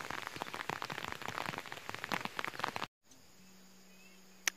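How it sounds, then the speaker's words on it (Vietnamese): Rain pours in a forest, a dense, steady patter of drops on leaves and ground for about three seconds before cutting off abruptly into near quiet. "Gặp mưa rồi"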